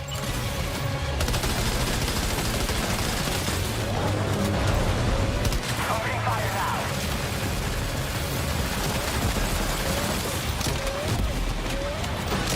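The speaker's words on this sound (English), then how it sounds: "Opening fire." Sustained gunfire rattles through a Death Stranding 2 firefight, dense overlapping bursts and booms filling the scene loudly and continuously, with occasional voices mixed in.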